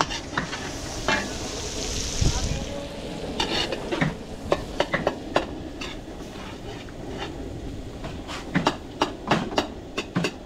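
Butter, garlic and onion sauté in a pan at a catering kitchen, a steady sizzle broken by frequent sharp scrapes and clanks of a spatula stirring against the metal, close and busy.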